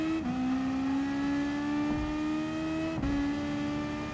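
A race car in Gran Turismo Sport runs on dry tyres over a wet track, its engine holding a steady high drone. Gear shifts dip the pitch briefly near the start and again around the three-second mark.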